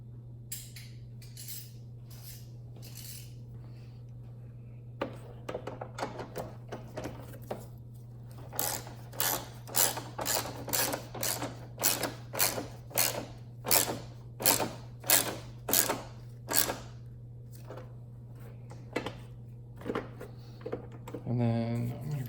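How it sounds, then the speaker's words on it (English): A bolt is snugged down while a cold air intake is fitted to a Mustang GT: a run of sharp, rhythmic ratchet-like clicks in quick bursts over a low steady hum, with pauses between runs. "I'm going to go ahead and snug up this back bolt here too"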